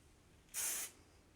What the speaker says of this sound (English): So I lift up my hair, spray it,